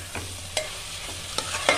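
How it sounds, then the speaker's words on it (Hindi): A spoon scrapes and stirs through thick jackfruit curry in a pan, a few distinct strokes over a soft, steady sizzle. "कटहल को अब मिक्स कर देंगे।"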